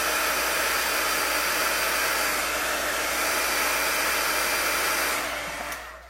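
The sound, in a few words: heat tool drying ink on a stamped card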